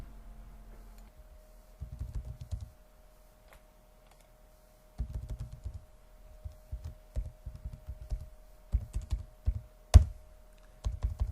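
Bursts of keyboard typing, clicking keys in quick irregular runs separated by short pauses, with a faint steady hum underneath.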